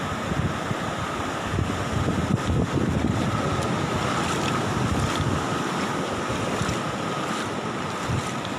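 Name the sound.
flood waves hitting the beach at Tanjung Pakis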